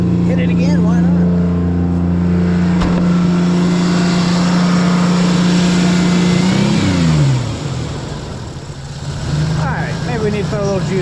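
A Ford Explorer with a sticking throttle holds a loud, steady high-revving engine drone, then the pitch sweeps down as revs drop and the engine settles into a lower rumble, with a voice briefly over it.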